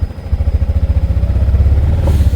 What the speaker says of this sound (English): As I gently give it some throttle,